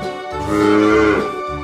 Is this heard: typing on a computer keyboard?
no